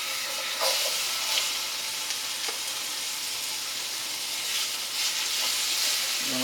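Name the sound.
sweet and hot sausages browning in a hot pan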